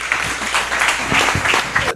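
An audience at a live stage event applauds loudly and steadily, with dense continuous clapping for about two seconds and no talk over it.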